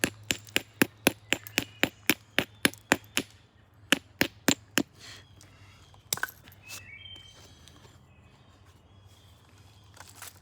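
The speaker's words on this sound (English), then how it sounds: "I'm just seeing if I can get rid of this hinge by just pecking at it." Sharp, regular pecking taps on a quartzite hinge during flint knapping of a Morrow Mountain point, a rapid series of about a dozen clicks, then a few more spaced strikes and quieter handling noise.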